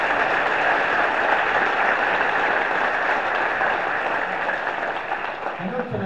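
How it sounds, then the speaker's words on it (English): Audience applause at a 2021 senior scholarship ceremony, a steady dense wash of many hands clapping that holds for about six seconds before thinning slightly at the end. "let's give Sandy a round of applause."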